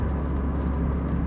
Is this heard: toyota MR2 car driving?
yes